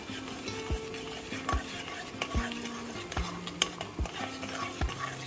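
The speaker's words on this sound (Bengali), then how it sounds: "দিয়ে আমি এবার নাড়াবো, নালে কিন্তু দলা পেকে যাবে।" Ladle or spoon stirring Gobindobhog rice flour into milk in a pot, giving rhythmic scraping strokes with regular clinks against the metal and a soft simmering sizzle underneath, close by and with no talk.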